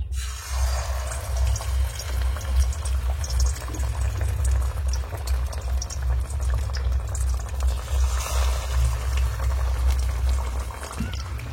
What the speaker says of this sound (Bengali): এবার কড়াইতে তেল দিয়ে আমি নাস্তাগুলো ভেজে নেব